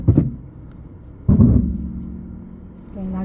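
A car moving off as the learner driver releases the brake during a driving lesson: a sudden close engine surge into a low, steady rumbling hum, with a softer thump before it.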